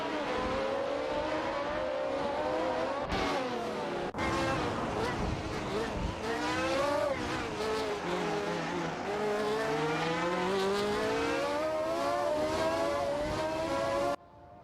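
A Ferrari 312T and a McLaren M23 race wheel to wheel in an AI-driven racing game, their high engines droning and rising and falling in pitch as they shift and accelerate, loud and continuous.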